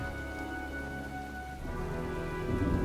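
Steady rain falls in the Heavy Rain video game, a constant close hiss that swells slightly near the end, with no one talking.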